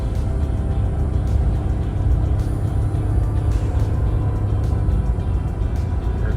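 Ford F-150 Tremor pickup engine pulling a trailer up a mountain grade in fourth gear, a constant low rumble under cabin road noise with no talking.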